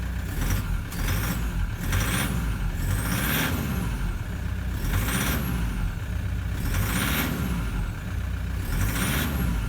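Toyota Prado engine idling steadily with suspect fuel injectors, giving a continuous rumble with faint repeating ticks and hisses, heard up close with no voices.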